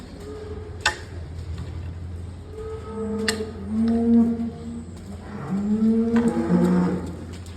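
Several dairy cows moo in low, drawn-out calls, some overlapping, with faint clicks and barn background noise; moderately close, no talking.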